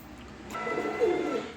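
A pair of pigeons coos softly up close, a low rolling warble that swells after a quiet start and carries on steadily to the end.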